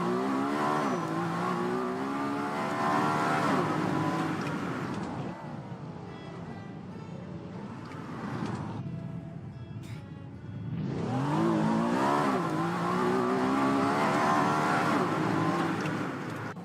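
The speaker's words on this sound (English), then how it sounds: "they have just a clip of a car accelerating." A car engine in a Roblox racing game revving and accelerating repeatedly, pitch climbing through gears, easing off mid-way, then roaring up again.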